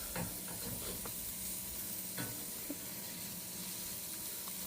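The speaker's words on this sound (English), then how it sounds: "The shrimp's starting to sizzle. So we're going to kind of stir it around." Shrimp sizzles in a greased grill wok while being stirred, a faint, steady hiss and crackle with a few soft scraping clicks from the utensil.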